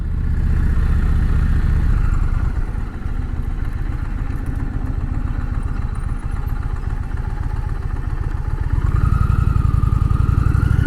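An Indian Challenger Dark Horse motorcycle engine rumbles steadily through a test ride, a deep pulsing throb that dips briefly, then rises again as the bike accelerates toward the end.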